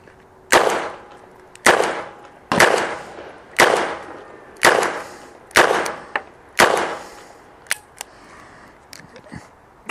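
A handgun fires a string of about seven evenly spaced shots after a reload, each a sharp crack with a short reverberant tail, heard close and alone, followed by a few faint clicks.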